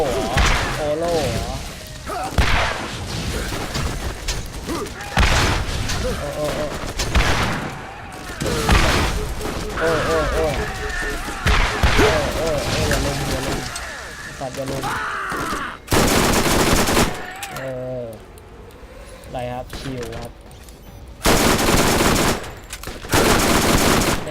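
Gunfire in the video game Borderlands: repeated bursts of rapid automatic shots and heavy booms, loud and close, mixed with excited talk from players over the action.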